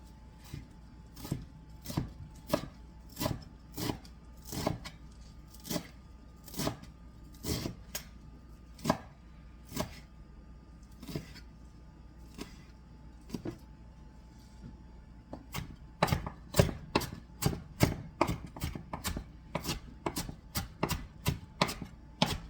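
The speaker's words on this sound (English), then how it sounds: "When you really chop parsley, you use a lot more than you realize." Parsley chopped with a knife on a board for a beef, barley and mushroom stew: a steady run of crisp, close knife strikes, evenly spaced at first, then speeding into a faster, denser burst near the end, with no talking.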